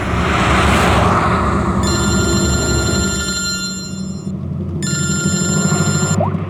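A telephone rings in two long electronic bursts, loud over a steady car engine and road rumble inside a moving vehicle, with a short gap between rings.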